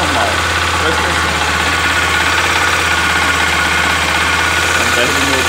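A 2018 Honda XRE 300 motorcycle engine idles up close with an abnormal noise, a steady loud mechanical hum overlaid with rapid ticking and knocking that continues without a break.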